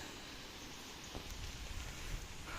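Heavy rain falling on open farmland, a steady dense hiss that fills the whole clip at a moderate level, with a few soft thumps and no talk.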